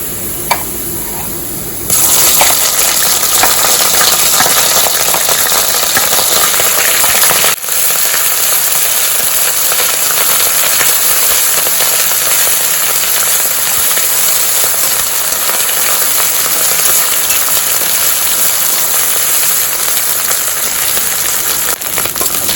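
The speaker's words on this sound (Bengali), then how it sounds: "প্রথমে আমি আদা আর রসুনের পেস্টটা দিয়ে দিচ্ছি" Ginger and garlic paste sizzles in hot oil in a frying pan, the start of a rohu fish curry with yogurt: a sudden loud, steady hiss that begins after a short pause and continues evenly to the end.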